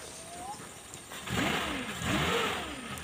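A car engine cranks and catches after a short pause, then runs with a couple of revving swells. It is fairly close and moderately loud, with faint background noise.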